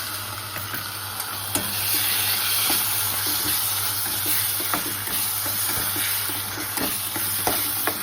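Spice paste with tomato sautéing in oil for dum aloo, a dense steady sizzle and hiss with occasional stirring scrapes, close and continuous without speech.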